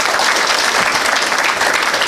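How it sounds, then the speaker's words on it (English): A conference audience at a national border management event in a hotel venue breaks into dense, loud, continuous applause, a close wash of many hands clapping together. "Let's give them a round of applause"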